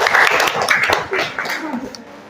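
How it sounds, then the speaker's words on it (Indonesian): Applause and scattered clapping from an audience after a business presentation about a laundry enterprise in a classroom setting, a short burst of hand claps that stays fairly steady and then thins out toward the end. "tepuk tangan untuk presentasinya Bapak ini"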